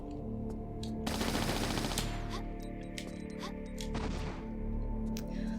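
Rapid Uzi gunfire in a Tomb Raider custom level, bursts of clattering shots over a game's ambient hum, with impacts and other effects mixed in.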